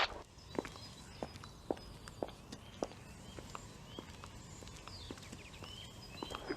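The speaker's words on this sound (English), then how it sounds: "shoes that sound like flip-flops," Footsteps in shoes that sound like flip-flops pass along an outdoor footpath, a series of light slapping steps that fade from near to farther away, with birds chirping in the background.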